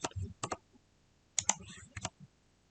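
Computer mouse and keyboard clicks come in quick, close, sharp bursts with brief pauses while files are deleted on a computer.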